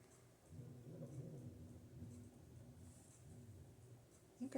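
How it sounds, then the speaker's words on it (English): Distant thunder rumbles low and faint in a long rolling swell, indoors and far off, ending with a small nearby clatter. "I think I just heard thunder."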